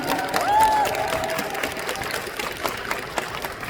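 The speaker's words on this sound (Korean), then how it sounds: "큰 박수 부탁드립니다" Applause from fans at a T1 esports fan meeting, a steady wash of clapping and crowd noise with a voice briefly audible at the start.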